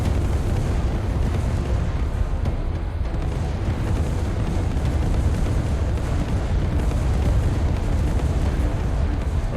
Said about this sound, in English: The RPGs aren't firing quite in sync anymore. They're starting to fire at different times.